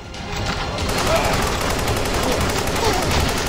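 Rapid gunfire in the zombie shooter Road of the Dead 2 rattles without pause, a dense, loud burst of overlapping shots from close range.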